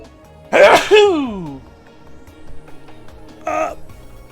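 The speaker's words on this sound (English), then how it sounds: "Oh, I'm about to sneeze." A single loud sneeze, followed a few seconds later by a short second burst like a sniff or small cough, in an otherwise quiet room.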